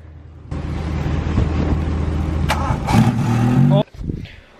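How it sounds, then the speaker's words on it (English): An old beater car, just repaired, has its engine start and settle into a steady low idle rumble for about three seconds before cutting off. A person talks over it, close by. "All right, push the clutch in and start it."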